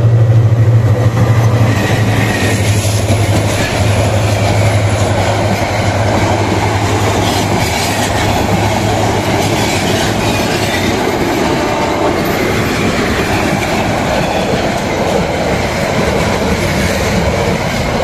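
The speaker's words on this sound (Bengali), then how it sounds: "কিছুক্ষণ আগে যে ট্রেনটা গেছে" A train rolls past at Pubail railway station in Gazipur, a loud, steady rumble and rattle of rail cars that holds close and continuous for the whole stretch, with no talking.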